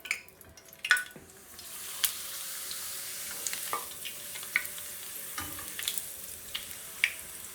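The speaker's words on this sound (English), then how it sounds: "Just put them in the hot oil, flip them over." Lentil crackers fry in hot oil with a steady sizzle and occasional bubbling pops, plus a few clinks as they are flipped, close and continuous with no talking.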